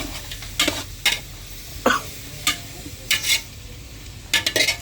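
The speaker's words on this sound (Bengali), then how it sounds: "এটা আমি ভেজে নেব" Spices fry in a pan for a pumpkin and shrimp curry, with short scraping stirs breaking in at irregular intervals over a soft, steady sizzle.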